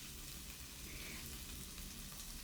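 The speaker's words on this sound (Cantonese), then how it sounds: "煎到好似金黃色咁樣，慢慢煎佢" Pork and asparagus rolls pan-frying slowly until golden, giving a steady, close sizzle of hot oil that holds even throughout with no talk over it.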